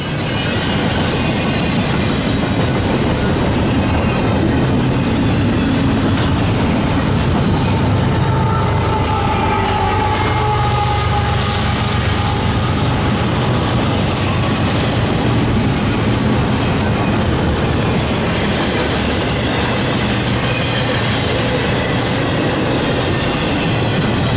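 A westbound freight train with a mid-train distributed power unit rolls past at night, a loud continuous rumble of rail cars with steady clickety-clack and occasional wheel squeal, sustained and close throughout.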